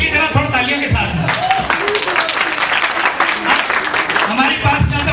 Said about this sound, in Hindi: इसलिए जरा थोड़ा तालियों के साथ